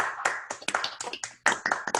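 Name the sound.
virtual applause, clapping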